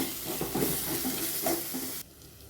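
Chilli powder and coriander powder being stirred in a hot pan of egg and paneer gravy, a close scraping stir over steady sizzling for about two seconds before it cuts off.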